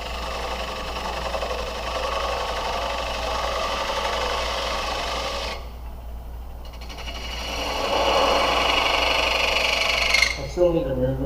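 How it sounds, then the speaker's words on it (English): Wood lathe spinning a workpiece while a spindle detail gouge cuts a bevel, a steady motor hum with scraping tool contact that shifts in tone partway through. "I'm going to use my spindle detail gouge to put a bevel on this."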